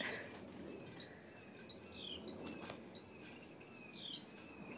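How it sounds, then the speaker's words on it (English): Young birds chirp around a nest outdoors in faint, scattered high tweets against a hushed background, a few short calls spread across the stretch with no talk. "Are you watching those birds?"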